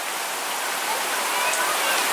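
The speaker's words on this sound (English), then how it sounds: "Oh, it's hailing now." Hail falling in a Seattle spring rain, a dense steady hiss of pellets and drops striking surfaces, even and continuous throughout, fairly close with no talking.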